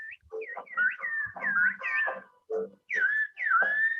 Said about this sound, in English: It's about whistling, the whistling traditional, yes, language.